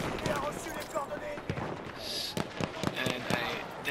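Sharp, fairly faint gunshot cracks from a Lebel Model 1889 rifle in Battlefield 1 go off at irregular intervals amid game noise, with a voice talking intermittently.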